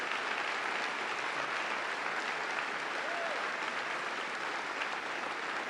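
An audience at a CPAC-style event applauding, dense, steady clapping that fills the room evenly and continuously, close and loud, with no voices on top.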